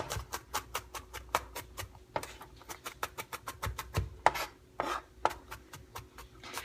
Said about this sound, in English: And then we chop it.